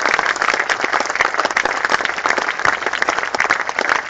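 An audience at a spoken performance breaks into sustained, dense applause, many hands clapping at once in a loud, even wash with no voices over it.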